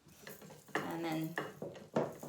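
Grated beeswax or pellets being stirred as they melt in a bowl over heat, giving a close scraping and clinking of a utensil against the bowl in a few uneven strokes with faint sizzling.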